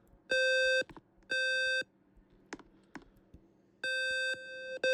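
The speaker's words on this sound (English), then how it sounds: "The fire alarm's going off." A fire alarm going off indoors: loud, piercing electronic beeps in bursts of about half a second, three shown, with quieter clicks and thumps between them.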